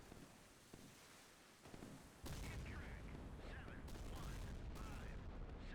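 Naval gunfire rounds in the Sea Power naval warfare game: a dense, sustained burst of loud rapid shots and booms, starting abruptly partway through after quieter scattered firing, with brief radio-style voice traces in the background.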